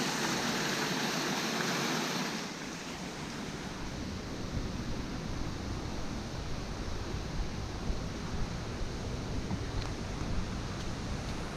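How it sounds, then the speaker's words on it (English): A small waterfall beside a weedy path pours in a steady broadband rush of falling water, close and continuous throughout, with no voices over it. "mini waterfall. Very cute."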